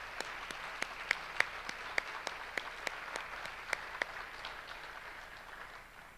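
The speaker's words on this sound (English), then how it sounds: "And so I'd really like to give a round of applause also." Scattered hand claps from an audience at a school district Teacher of the Year awards night, a thin irregular patter under steady room noise with a few sharper near claps, fading toward the end.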